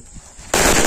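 A red bijli firecracker bursts with a sudden sharp, loud crack after a brief quiet lead-in, close by and harsh, the blast filling the rest of the moment.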